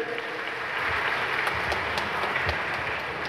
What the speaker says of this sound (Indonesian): tepuk tangan Bapak Ibu hadirin sekalian